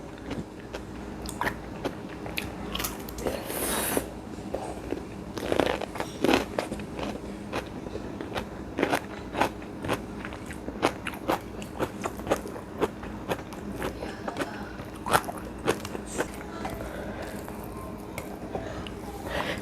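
A cold cucumber straight from the fridge is bitten and chewed close up, with repeated crisp crunches and wet squishing in an irregular rhythm over steady indoor background noise.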